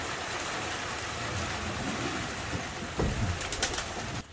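A pigeon coos softly amid steady outdoor noise that sounds like light rain, with a few louder rustles near the end.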